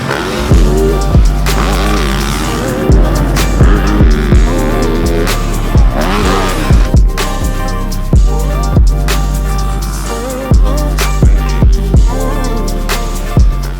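A 2024 Yamaha YZ450F motocross bike rides at Glen Helen Raceway, its loud engine revving and shifting continuously with repeated sharp bursts and drops in pitch, close up, with no voices.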